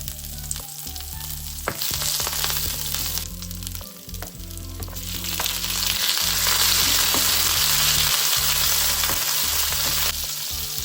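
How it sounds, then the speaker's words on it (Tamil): Dried chillies, ginger, curry leaves and tomato are sautéed in hot oil, making loud, continuous close-up sizzling broken by the scrape and clatter of stirring. "இதோட கொஞ்சம் இஞ்சியும் கருவேப்பிலையும் தக்காளியும் சேர்த்து எண்ணெயில் வதக்கி எடுக்கப்புறேன்"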